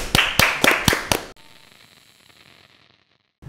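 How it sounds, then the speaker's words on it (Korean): Applause greets a guest at a Korean political talk show: five sharp, loud claps land in quick succession, then cut off abruptly, leaving a faint hiss and then near silence. "박수로 모시겠습니다"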